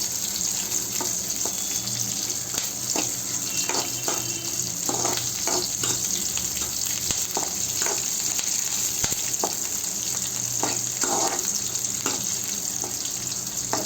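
Onions frying in oil, a steady dense sizzle that holds loud and close throughout, with scattered stirring clicks and a faint watery hiss layered underneath.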